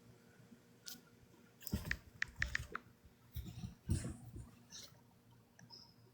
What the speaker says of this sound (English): she's typing to us in chat. I can hear her hitting the thing.